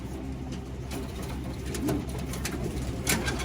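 Racing pigeons cooing close by in a loft, with soft, repeated throaty coos over a steady low background hum and no talk.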